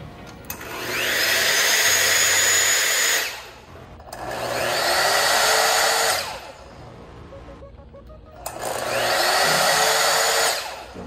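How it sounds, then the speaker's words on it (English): A 7-inch chop saw runs on battery power in a shop, making three loud whining cuts of about three seconds each, with short quiet pauses between them and no talking. "First up, a 7-inch chop saw."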